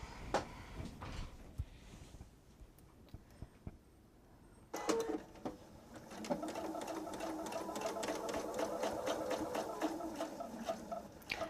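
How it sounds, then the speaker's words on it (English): A sewing machine stitches a quarter-inch seam in a fast, steady burst, starting quietly and then whirring continuously for several seconds at close range. "Off to the sewing machine we go."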